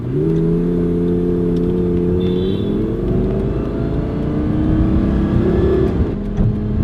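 A Lamborghini pulling away in traffic, its engine droning loud and close with rising revs and gear-linked pitch climbs, a continuous accelerating roar with no voices.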